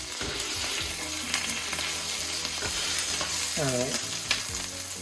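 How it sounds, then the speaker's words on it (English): A smash burger patty sizzles in butter on a hot griddle, a steady, close crackle running throughout with a brief scrape partway through and a single short spoken word near the start. "It's gonna sizzle, it's gonna give you that very like good meaty and smoky smell, and also butter in there."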